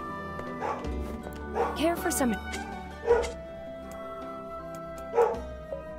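Video game dog from Nier Replicant giving several short barks spread across a few seconds, moderately loud and mixed with someone talking over game music.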